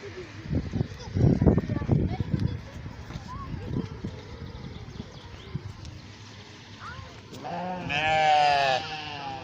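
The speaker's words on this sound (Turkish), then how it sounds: "Şurada bir koyun ötüyor." People talk over outdoor zoo animal sounds, then a loud, wavering sheep bleat rises near the end.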